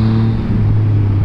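Sportbike engine droning steadily while riding, a loud, close, continuous hum with wind rush and no voices.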